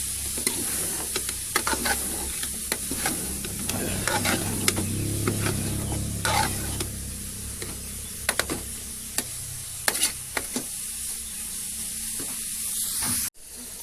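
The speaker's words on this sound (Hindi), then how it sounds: "इसे हिम्मत के साथ हिलाते रहना है ताकि नीचे ना लग जाए।" Cauliflower stirred in a frying pan: a constant hiss of frying under repeated scraping, clattering strokes of a spoon, close by, ending in a sharp knock.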